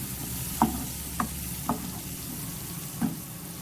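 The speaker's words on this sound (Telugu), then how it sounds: "గోకరకాయ వేసుకున్నాం, వేయించుకోవాలి." Ivy gourd frying in a pan for a chicken curry, with a steady soft sizzle and four distinct spoon-against-pan stirring knocks spaced irregularly, close and moderately loud, no talking.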